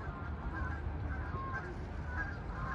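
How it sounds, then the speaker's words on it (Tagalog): A wild duck calls near a bridge in Germany, its honking cries rising over a steady outdoor rush of wind and water that persists throughout. "Oh, may wild duck. Matunog pa, oh."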